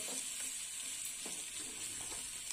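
Poppy seed paste sizzles steadily in a frying pan with potatoes for a vegetable chorchori, a continuous soft hiss of frying with faint stirring scrapes.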